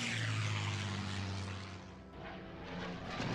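Droning propeller engines of British bomber aircraft in a video game, a loud continuous roar with a low hum that swells and dips slightly as the planes pass overhead, with no talking.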